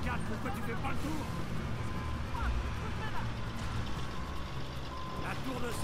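A truck engine rumbles steadily with repeated high reversing beeps, and a voice speaks briefly over it, in Uncharted 4: A Thief's End game audio.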